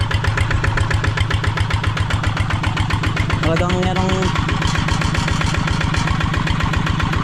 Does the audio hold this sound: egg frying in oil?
no